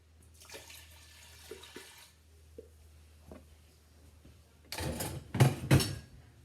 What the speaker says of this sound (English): Then you want to put your white wine vinegar in the pot.